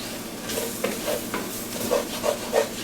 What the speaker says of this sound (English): You gotta stir, stir, stir, because we don't want to burn that flour